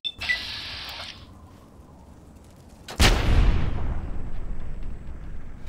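A single heavy grenade blast erupts in Fallout 3 partway through, loud and booming with a long rumbling decay, preceded by a brief metallic clatter and quieter ambience.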